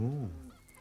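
A white hen gives a short, throaty cluck that slides downward in pitch, loud at first and then trailing off within a second, with no talk over it.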